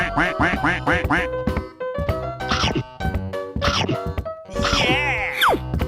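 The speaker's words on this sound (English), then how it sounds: "Quack, quack, quack, quack, quack, quack." A cartoon duck quacks in rapid bursts of nasal, comic quacks over bouncy music and sound effects, with a rising whistle-like slide near the end; loud and close.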